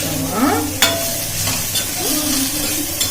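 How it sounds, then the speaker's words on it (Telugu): Bitter gourd curry sizzles in a pan with jaggery as a utensil scrapes and stirs, giving a few sharp clinks and scraping sweeps over a steady frying hiss, close and fairly loud. "ఇంక ఈ బెల్లం వేసిన తర్వాత అంతా ఒకసారి కలిగి తిప్పేసుకొని"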